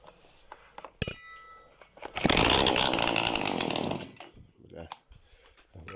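A homemade generator built from an induction motor starts after a couple of sharp clicks and knocks, then runs with a loud, buzzing whine for about two seconds before it winds down. Faint handling noises follow.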